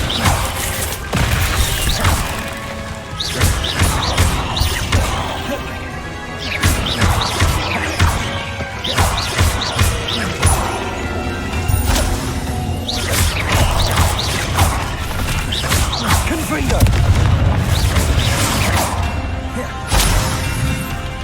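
Blasting spell explosions and combat in Hogwarts Legacy, loud repeated bangs, crashes and whooshes firing in quick succession over a rumbling backdrop, with occasional shouted spell voices.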